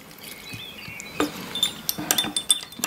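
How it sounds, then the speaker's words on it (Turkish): Rose water from Isparta is poured into a drinking glass holding a quince seed, giving faint splashing with a few light glassy clinks and ticks that grow busier toward the end, with no talking. "üzerine bardağın dibine gelecek şekilde gül suyunu döktüm."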